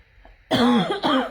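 A single person coughs sharply a couple of times in quick succession, close and clear, after a brief quiet moment.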